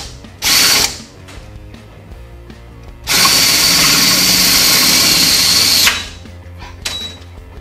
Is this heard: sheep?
no